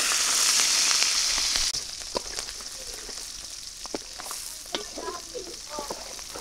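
Shrimp sizzle in hot oil in a pan, with a loud burst of frying at first that settles into a steady crackle, broken by sharp pops and stirring clinks. No one speaks.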